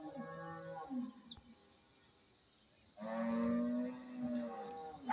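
A dairy cow moos twice, low drawn-out calls separated by a quiet gap, with faint chirps of birds in the background.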